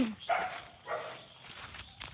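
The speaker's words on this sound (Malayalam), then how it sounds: "പട്ടി ഇവിടെ ഒരു പട്ടി സ്ഥിരവാസം താമസിക്കുകയാണ്" A dog barks a couple of times, short gruff woofs spaced apart, at moderate distance over quiet background noise.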